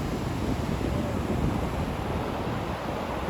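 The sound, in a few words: sea waves at Mandarmani beach in rain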